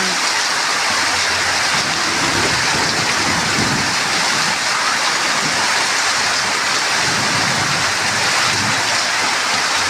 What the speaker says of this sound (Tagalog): Ang ulan, ang lakas ng ulan.